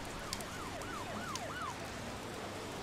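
An ambulance siren in the Emergency 4 emergency-services video game wails in a rapid repeating rise-and-fall pattern, five quick cycles heard at moderate distance over a hiss like rain, then it stops.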